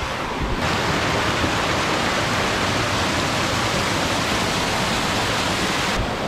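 A small waterfall beside a trail at Dongarwadi roars as a dense, constant rush of falling water, loud and close, with no voices.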